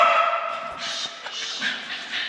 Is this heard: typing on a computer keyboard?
no